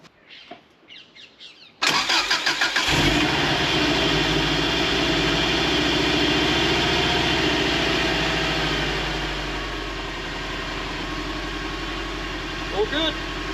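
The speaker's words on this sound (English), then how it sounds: "Let's see if this small battery starts the engine." A car cranks over briefly on a small lightweight battery, then catches and settles into a loud, steady idle that eases slightly toward the end, with a few faint bird calls and brief voices in the background.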